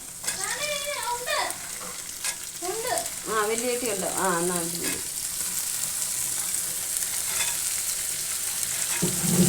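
Washed green beans hit a hot pan and sizzle with a steady, crackling fry that carries on through the whole stretch, while a person speaks over the first half.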